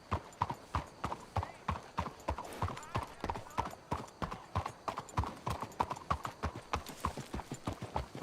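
Horse hooves clip-clop at an even walking rhythm in Red Dead Redemption 2, clear and close, with faint creaks and movement under the steady beat.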